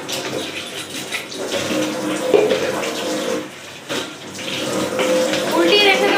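Containers being washed under a running tap, a continuous rush of water with clunks of plastic or metal handled in the sink, close and loud without talk.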